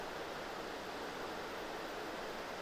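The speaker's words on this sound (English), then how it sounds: "Now that's what I consider a waterfall." A waterfall at Kanchanaburi, Thailand, roars as a steady, broad hiss of falling water, close and continuous with no voices over it.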